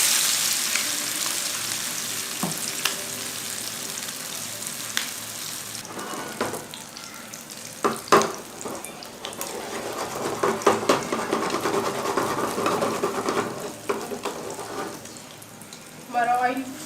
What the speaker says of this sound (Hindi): अब हम इसमें जो हमने शामी कबाब बना कर रखे थे वो ऐड कर रहे हैं, फ्राई करेंगे।